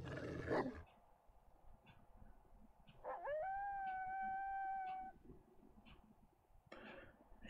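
A dog howls in the survival video game 7 Days To Die, one sustained, rising then steady howl lasting about two seconds, heard fairly distant and muffled behind a door over a low ambient game background, with no talking.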